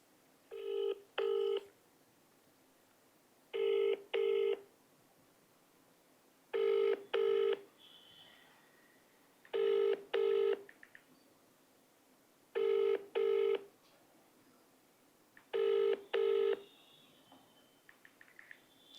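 A telephone ringing out unanswered during a live call-in broadcast, its paired electronic rings repeating six times at steady intervals, fairly clear against a quiet background.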